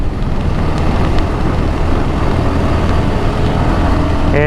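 Engines drone continuously with a low rumble and wind noise while riding in a group of about seven motorcycles in Bangladesh; a brief whine rises at the end.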